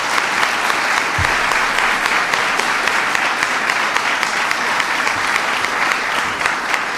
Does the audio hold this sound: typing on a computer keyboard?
no